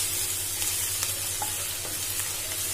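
Ginger paste roasting in a pan for chilli paneer, giving a steady close sizzle and hiss throughout with a faint low hum underneath and a few small stirring ticks, no voices.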